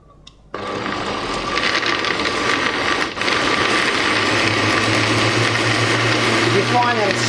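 A blender whirs through butter chicken curry in a pot, starting abruptly after a quiet moment and then grinding loudly and steadily, with a brief dip midway before resuming at full power.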